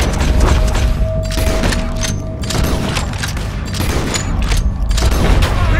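Rapid volleys of gunfire fill a Red Dead Redemption 2 shootout at an O'Driscoll camp, headshots landing in slowed time. Loud, dense bursts of shots and booms run continuously over a game score.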